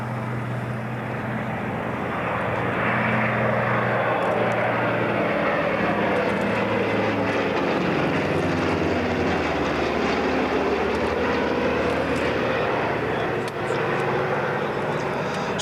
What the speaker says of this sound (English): Along behind a P-47 Thunderbolt escorting the Liberator.